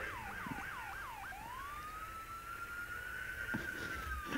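Police siren in the MTA multiplayer driving game: a few rapid yelping wails give way to a long, steady rising tone, fairly close over a low engine hum, with no talk.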